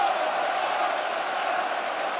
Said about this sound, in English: stands and applauds as one this goal-scoring phenomenon